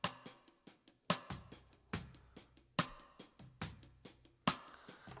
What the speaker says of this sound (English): which he's playing a rim shot right now